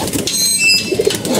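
Loft pigeons give a few soft, low coos near the end, close by over a steady murmur, with a faint flutter of wings.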